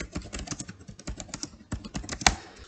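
Rapid keystrokes on a computer keyboard while Urdu text is typed, a dense irregular run of clicks with one sharper clack near the end, close and clear with no talking.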